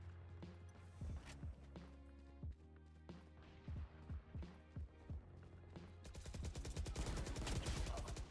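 Gunfire in Valorant, a quiet spaced string of sharp shots and short bursts over steady game ambience, ending in a louder rush of noise.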